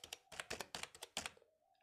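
Quick bursts of keystrokes on a computer keyboard as a mobile number is typed into an online form, close and crisp clicks in about a dozen rapid strikes, followed by a faint tone.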